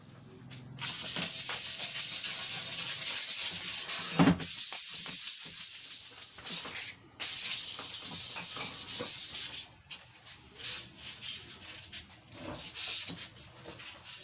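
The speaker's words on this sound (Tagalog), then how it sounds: "lihain muna natin yung mga gasgas para mapantay, yung mabababaw na gasgas." Shallow scratches on a mountain bike frame being sanded by hand before primer, steady close rasping strokes with short pauses between passes.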